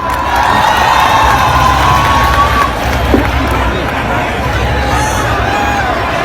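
A crowd of Jamia students cheers and shouts to welcome actress Swara Bhasker at a CAA-NRC protest rally, a loud, continuous roar of voices with whoops and scattered clapping, dense and close throughout.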